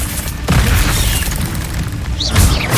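The Incendio spell in Hogwarts Legacy bursts out as a loud, sustained roaring blast with a deep boom that swells again near the end.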